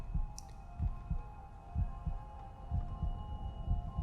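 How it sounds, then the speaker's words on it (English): Heartbeat sound effect from the Daredevil TV series, a steady low thumping pulse repeating roughly twice a second over a faint steady hum. "He's hearing their heartbeats."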